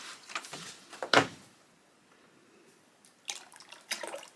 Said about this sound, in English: I'm going to be adding my water directly into my oils.